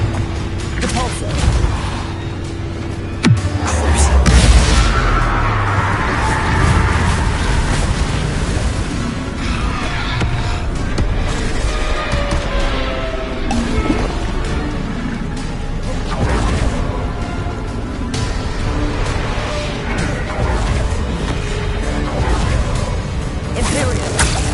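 Depulso spell impact in the Hogwarts Legacy video game: a loud booming crash followed by a rumbling, surf-like roar and whooshes that fill the scene, under an ongoing dense game soundscape.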